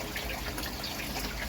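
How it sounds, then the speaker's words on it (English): A small trickle of water runs from a koi pond filter, a steady, continuous watery wash heard close by with no voices. "it's a little trickle, by the time that comes out the other end, the plants have soaked it all up and it's just a drip"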